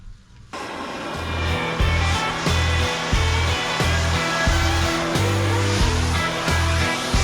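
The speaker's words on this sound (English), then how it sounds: "So got the oxy here, gonna get them as hot as I can, get them burning." An oxy torch roars steadily close by as it heats and burns out suspension bushes on an International C1100 pickup. A pulsing, throbbing layer runs under the continuous broadband hiss.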